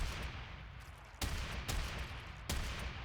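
Hek shotgun blasts in the video game Warframe, three loud booming shots spaced irregularly over steady game background noise, each firing a spread of pellets.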